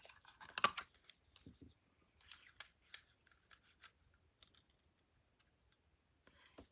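Scissors snipping paper while making a handmade card: a few quiet, close cuts near the start, followed by faint intermittent clicks and rustles that fade toward the end.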